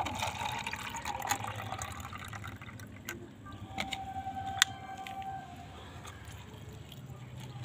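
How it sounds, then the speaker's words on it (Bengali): About 250 ml of water poured into a potted hibiscus, a soft, steady trickle and gurgle close by that fades out after a few seconds, with a faint whistling tone partway through. "একটা টবে আপনারা এরকম 250 মাপের জল দিয়ে দেবেন।"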